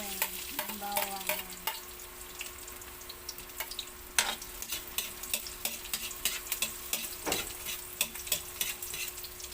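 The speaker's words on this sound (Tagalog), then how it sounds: "Gisa na natin yung ating bawang." Garlic sautéing in oil in a home kitchen pan, a steady close sizzle with repeated scraping stir strokes and clinks of a utensil against the pan throughout.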